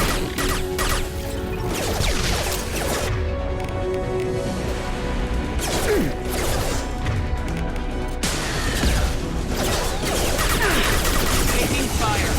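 Geth enemies fire on the player in a Mass Effect 2 combat encounter on PC, with dense, continuous bursts of gunshots and impacts, loud and sustained over a busy battle soundscape, with no speech.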